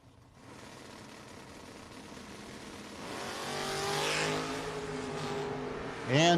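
Drag race cars launching on the strip at a No-Box 660 Shootout, distant engine roar rising and building over several seconds into a loud close burst at the end, with no voices.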